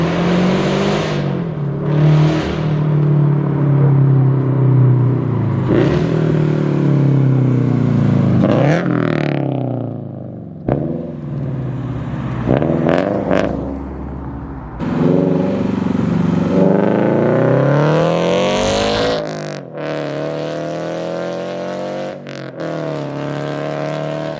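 Subaru FRS fitted with a UEL exhaust, revved hard and loud in repeated rising and falling bursts, its deep rumble filling the scene nearby with no one talking over it.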